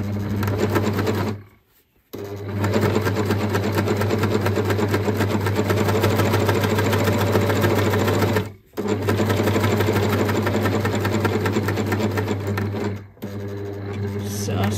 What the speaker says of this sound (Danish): kører igen et sting baglæns